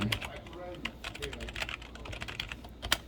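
Someone types a name on a computer keyboard in a quick, uneven run of soft key clicks, close but quiet, while a low voice talks over them.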